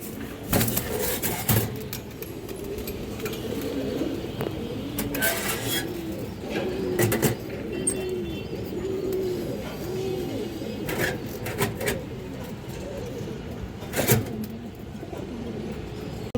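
A flock of army-breed pigeons at a pigeon farm coos steadily in a low, continuous murmur, with several sharp knocks and clatters breaking in from close by.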